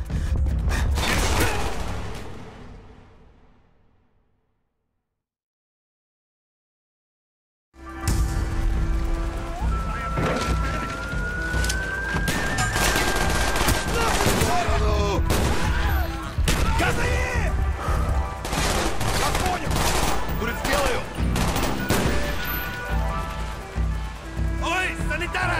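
Video game gunfire in a Call of Duty: Black Ops battle: loud bursts of shots and explosions that fade to total silence, then return as dense, continuous combat noise with shouted voices over it.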